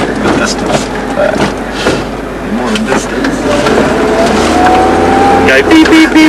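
Race cars roar past at a speedway track, loud engine notes rising and falling as they sweep by close, with people talking and shouting over the noise.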